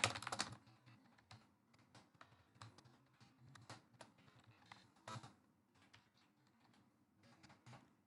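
Computer keyboard typing while entering company details in Tally Prime accounting software, with a burst of rapid keystrokes at the start, then steady irregular clicks and short flurries continuing throughout.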